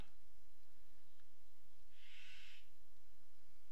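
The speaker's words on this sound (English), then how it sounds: "There's a bird outside who had opinions." A bird calling outside, a single hoarse, breathy call lasting about half a second, fairly faint against a quiet background hiss.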